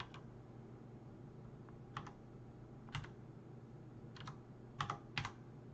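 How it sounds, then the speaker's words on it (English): Typing on a computer keyboard while entering equations into Desmos, a few quiet isolated key clicks and short double taps spaced irregularly over a low steady hum, close and faint, no voices. "So I'll just bring up Desmos and I'll type these in."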